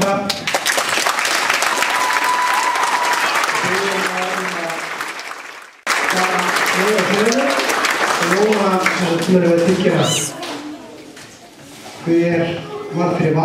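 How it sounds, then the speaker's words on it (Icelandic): Loud, dense audience applause at a local sports award ceremony, clapping strongly, dipping briefly, then resuming, with people talking and calling out over it toward the end. "Þá skulum við gefa þeim gott klapp."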